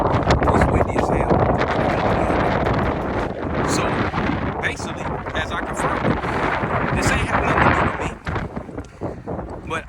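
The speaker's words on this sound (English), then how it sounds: "It's windy as hell." Heavy wind buffets the microphone in loud, rumbling gusts, with a voice faintly audible beneath the roar.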